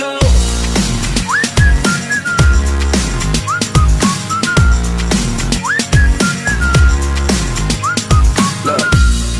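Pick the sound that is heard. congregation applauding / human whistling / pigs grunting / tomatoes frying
human whistling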